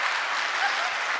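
Crowd at a Hindi satirical poetry performance clapping steadily, a brief unbroken patter of applause at moderate level, with no voice over it.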